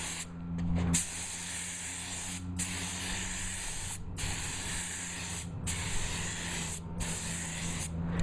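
Spray gun laying a heavy coat onto a metal fiberglass mold sitting in the sun, several long, steady hissing bursts broken by short pauses, close and fairly loud with no talking.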